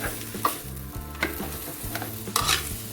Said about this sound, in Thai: ค่อย ๆ ผัดนะคะค่อยๆยีให้เขาเข้ากันดีนะคะ